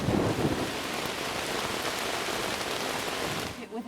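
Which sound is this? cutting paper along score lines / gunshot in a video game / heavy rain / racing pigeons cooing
heavy rain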